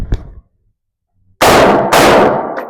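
Pistol shots at a shooting range during a blind marksmanship drill: a faint pop at the start, then two loud, close reports about half a second apart, each ringing out with a long decaying tail.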